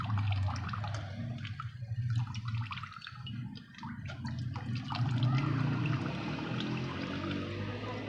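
Tamarind and plum sharbat liquid squeezed through a muslin cloth drips and trickles close by, a steady wet patter and dribble with no talking.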